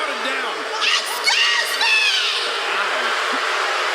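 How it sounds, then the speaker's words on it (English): A large crowd in a wrestling arena boos and shouts, a dense, sustained roar of many voices with louder swells throughout. "It was common to see arenas break out into a chorus of boos anytime Vicky Guerrero was on screen"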